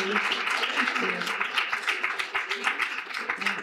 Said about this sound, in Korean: 잠깐만 박수 좀 부탁드립니다.